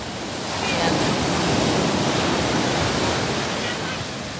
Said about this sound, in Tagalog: Lapitan natin yung alon.